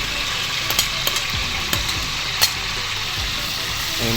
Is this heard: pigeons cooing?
no